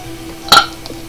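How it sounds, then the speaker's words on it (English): A single short, loud burp from a person, standing out alone against quiet background noise. "I just burped."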